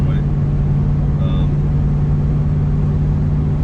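A 1973 Triumph Stag on the highway: a steady, droning engine hum with constant road and wind rumble, heard from inside the car.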